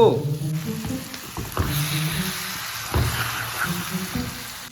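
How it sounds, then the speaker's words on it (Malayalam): Chicken pieces fry in oil with a loud, close sizzle broken by several heavy stirring clunks and scrapes of a spoon against the pan, and no voices. "ചിക്കൻ ഞാൻ പൊരിച്ചെടുത്തിട്ടുണ്ട്"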